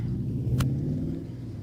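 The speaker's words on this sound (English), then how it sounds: "when Tony drives this thing out" A race car pulls out of a pit stop, its engine giving a low steady rumble with a brief sharp burst partway through, fairly close and without talk.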